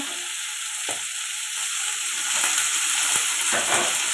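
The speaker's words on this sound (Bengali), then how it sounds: "এটা ভালো করে কষাতে থাকবো" Fish curry sautéing in a pan with green chilli, spring onion and tomato, a steady close sizzle and frying hiss, with a few soft stirring clicks and scrapes.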